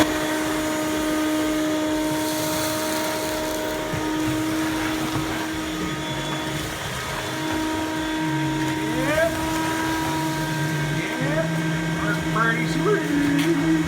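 A Ridgid shop vac powered by a DeWalt 20V portable power station through its inverter runs as a steady, loud motor whine throughout, with people talking over it.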